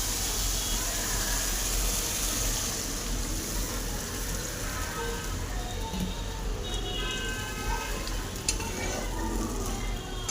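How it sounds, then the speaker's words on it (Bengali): Fried fish curry masala sizzles hard in a pan as water is poured in, giving a loud, dense, continuous hiss and crackle with no pauses and no talk. "অল্প করে আমি পানি দেব।"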